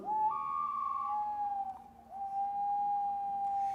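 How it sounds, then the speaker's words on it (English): A common loon's call from a recording: a long, mournful wavering tone that holds steady, dips briefly, then rises and sustains again, fairly faint and alone. "This is the sound of a common loon."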